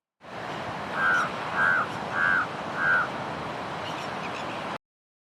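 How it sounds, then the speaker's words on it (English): Four evenly spaced caws from a crow ring out over a steady wash of wind or surf-like background noise. "let's talk about some of the most intelligent birds on the planet, crows and ravens"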